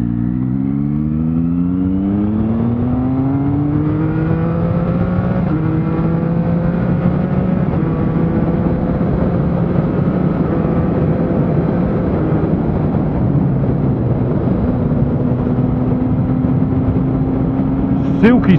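A motorcycle fitted with an HM Quickshifter Super Lite accelerates hard on an open road, its engine rising in pitch through each gear with quick, clean drops at every shift, loud and close, heard under wind noise.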